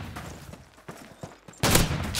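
Gunfire in the World War II shooter video game Call of Duty 2: a few scattered shots, then a louder, dense burst near the end, with no talking.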